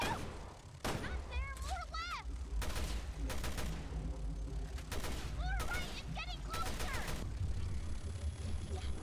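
Repeated gunfire bursts from the video game Resident Evil Revelations 2, loud broadband cracks clustered through the clip over a steady low rumble, with frantic voices speaking between the shots.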